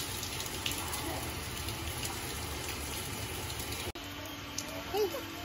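Steady rain hisses through the night in Sungailiat, Bangka, a dense, even wash of drops. It cuts out for an instant near the four-second mark, and faint voices murmur underneath.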